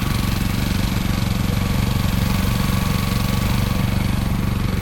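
A tractor engine runs steadily in taiga frost near minus fifty degrees, a loud, close, throbbing idle with a dense low rumble and no change in pace throughout.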